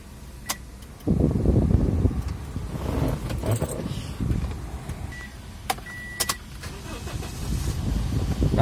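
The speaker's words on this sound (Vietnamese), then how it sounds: "em sẽ đi khởi động động cơ để cùng quý vị các bạn xem khoang động cơ như thế nào" A Toyota Vios sedan's engine cranks and fires up at about the one-second mark, then settles into a steady, smooth idle, with keys and small mechanical clicks audible around it and no talking.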